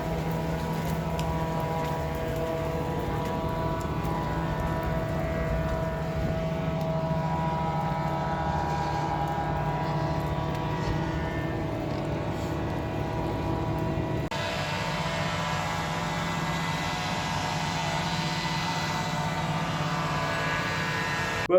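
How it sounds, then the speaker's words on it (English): Jet dryers roar continuously across a rain-soaked NASCAR track at the Coke Zero Sugar 400, a steady droning turbine hum heard from a distance, with no voices. "There are the jet dryers on the track trying to dry the track."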